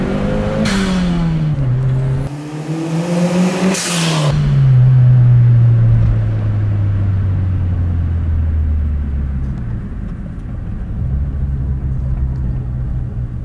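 Toyota Starlet GT turbo car engine revving up with a rising whine, then easing off into a falling, steady drone, loud and close with no talking.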